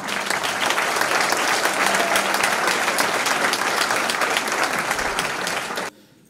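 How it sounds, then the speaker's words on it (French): Loud, steady applause from a sizable audience fills the room for several seconds, then cuts off abruptly. "qu'on applaudit bien fort"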